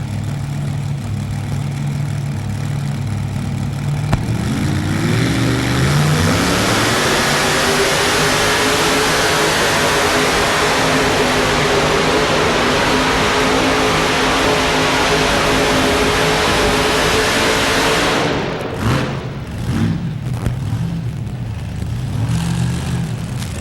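A 7,200-pound modified pulling tractor roars down the track during a pull, a loud sustained engine howl climbing in pitch and holding at full power, then cutting off abruptly near the end with a few sputtering bursts.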